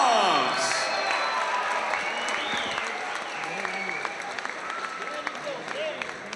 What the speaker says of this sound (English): Let's give both of these warriors a huge round of applause.